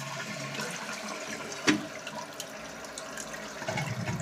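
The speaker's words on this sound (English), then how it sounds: "So I can flush it now." A household toilet with a running-tank fault flushes, a sharp lever clunk followed by a steady rush and hiss of water as the tank refills, heard close in a bathroom.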